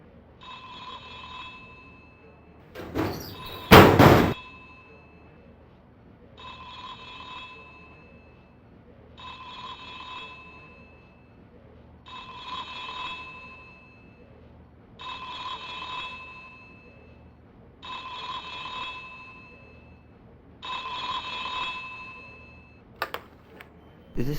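A phone rings in The X-Files PlayStation video game, giving a regular series of about eight electronic ring bursts, each followed by a short pause, at moderate volume. A loud short clatter interrupts early on.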